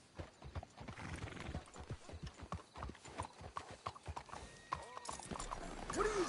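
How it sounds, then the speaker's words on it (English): Horse hooves clip-clop in a quick, steady rhythm on a hard surface in the video game Red Dead Redemption 2, with a horse whinnying near the end, faint and somewhat distant. "Let's hitch the horses up ahead."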